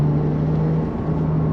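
Porsche 911 992 Turbo S Cabriolet, 2021, engine recorded from a bumper-mounted camera on a rough back road: a steady, loud low drone with a strong constant hum, alone without talk.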